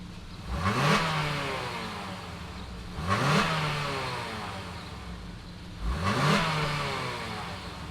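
The 3.5-liter V6 of a 2020 Acura TLX A-Spec revs up three times, each blip rising sharply and falling back to a low idle, heard alone and fairly close.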